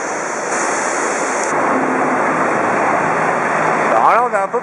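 A river rushing through a marble gorge in Taiwan, heard as a steady, loud roar of flowing water that fills the whole stretch, with a brief higher whistling sweep near the end.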